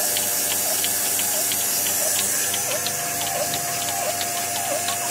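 Cow milking machine running in a barn, a steady loud hiss and hum with a regular pulsing tick from the pulsator repeating about every two-thirds of a second.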